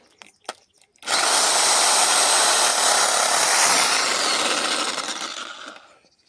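Reciprocating saw cutting through tree branches, a loud buzzing whine that starts abruptly after a couple of faint knocks, holds steady for several seconds close by, then winds down.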